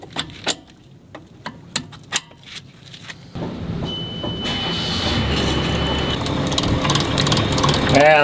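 A hydraulic boat anchor winch with a chain shaft coupler gives several sharp ratcheting clicks, then settles into a steady mechanical whir and grind as it turns and tightens, fairly close and loud.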